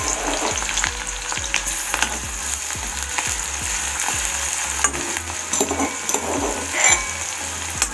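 Mustard seeds, onion, cumin and garlic paste frying in oil in a kadhai, a steady close sizzle with repeated scraping stirs of a spoon, no talk.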